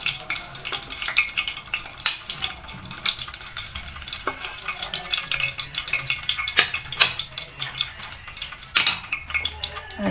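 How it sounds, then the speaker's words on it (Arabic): Potatoes frying in oil in a pot, stirred with a metal utensil that scrapes and clinks against the sides over a steady sizzle, close and fairly loud with repeated clatters. "نبقاو نقلبو فيه حتى كيتحمروا من كاع الجوانب"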